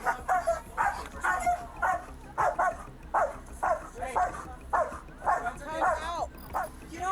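Several dogs bark in rapid repeated bursts at a home during a tense confrontation with an intruding woman, loud and close with yips and whimpers mixed in, over background voices.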